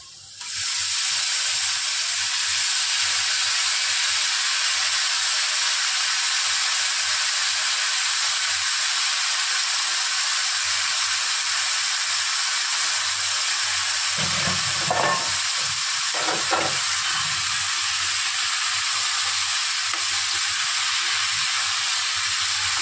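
Bottle gourd fries in a pan for a hilsa fish-head lau ghonto, a loud continuous hissing sizzle with brief bursts of stirring around the middle and no talk.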